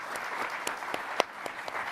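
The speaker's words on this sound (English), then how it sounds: "let's give our panelists a huge round of applause" Steady applause from a conference audience for a panel, a dense wash of clapping with a few sharper individual claps standing out, continuing throughout.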